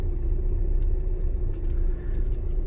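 A car driven on a road during a driving lesson behind a tractor, a steady low engine rumble with road noise throughout and no talking.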